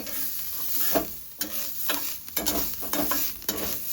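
Grated coconut fries in a pan with a steady close sizzle, broken by irregular scraping stirs of a spatula, no voices over it.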